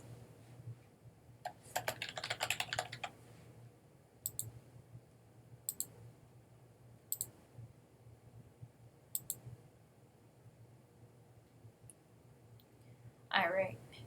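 An address typed on a computer keyboard, quiet clicks in a dense early burst, then sparse single keystrokes spaced several seconds apart, with soft speech underneath.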